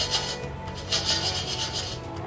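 Crispy, cheesy french fries fresh from an air fryer being crunched and rubbed, giving a dry rasping crackle in several close bursts with no talking.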